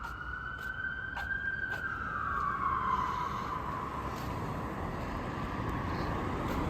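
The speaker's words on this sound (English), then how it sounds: "That's an ambulance vehicle." An ambulance siren wails in a long falling tone, moderately distant, over low traffic rumble.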